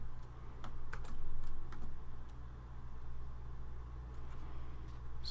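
Keystrokes on a computer keyboard entering a MATLAB expression, a quick irregular scatter of light clicks over a steady low electrical hum, fairly close and without talk.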